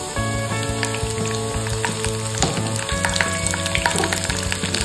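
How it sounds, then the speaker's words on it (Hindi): Chopped garlic sizzles steadily in hot oil in a pan for a spicy pasta, a dense continuous crackle under faint background tones, with no talking. "तो ऑयल हमारा गरम हो चुका है। अब हम इसमें डाल देते हैं ये चॉप करा हुआ लहसुन।"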